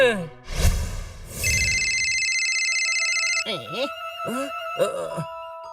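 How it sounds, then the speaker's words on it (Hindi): A telephone rings with a steady electronic trill for a couple of seconds, then a few chirping tones follow, with some background noise at the start. "आ गया, लगता है उसी का फोन है।"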